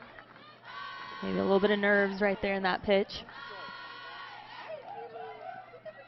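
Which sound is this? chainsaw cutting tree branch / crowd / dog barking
crowd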